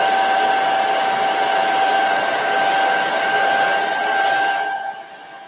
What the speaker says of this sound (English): I'm gonna grab my hair dryer and dry that a little bit